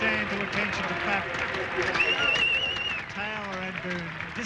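Crowd applause as Australia wins the Ashes in a 1989 Test match, players standing to clap, steady clapping running under a commentator's continuous talk.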